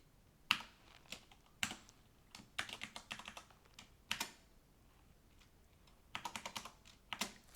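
Typing a new password on a computer keyboard: a few quick bursts of close, crisp key clicks separated by pauses, with no talk.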